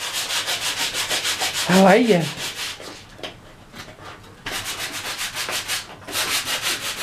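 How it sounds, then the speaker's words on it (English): Sandpaper rubbed back and forth over a filled wooden piece, a rhythmic scratchy stroking that pauses briefly mid-way, with a short spoken greeting over it. "So we filled all the holes that were in this, and I'm sanding it down"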